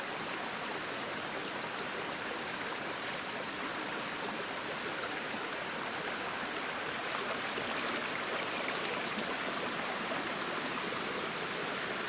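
A shallow, low river runs over slick rocks with a steady, broad rushing and babbling of water that stays close and constant throughout, with no voices.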